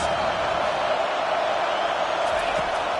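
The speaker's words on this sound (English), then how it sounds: "Listen to this crowd just shaking the girders of this place, trying to help their defense." A packed stadium crowd at a Clemson versus Arkansas college football game produces a continuous, loud roar that holds steady without pause.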